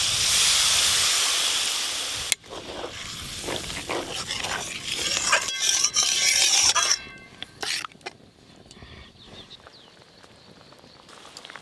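Water poured into a frying spice paste for a fish curry gives a loud, hissing sizzle that gradually dies down into softer bubbling and crackling, with a few clattering kitchen clicks along the way.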